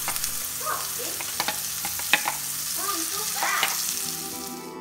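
Blended spice paste fries in hot oil over cumin, a constant close sizzle with bubbling pops and scattered scrapes of a spoon stirring it in the pan, no one talking.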